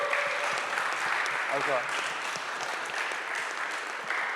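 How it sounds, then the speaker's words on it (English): Comic con audience clapping for a wrestling guest, a steady wash of applause from a crowd in a convention hall, with someone speaking briefly over it. "Clap it up for that, folks."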